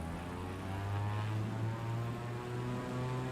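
A propeller airplane engine in Microsoft Flight Simulator 2024 on takeoff roll, a loud steady drone with a strong low hum and a bright harmonic whine, continuous and unbroken.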